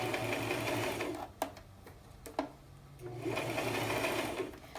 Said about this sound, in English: I'm going to stitch this under stitch 1/8 of an inch away from the first stitch that I made.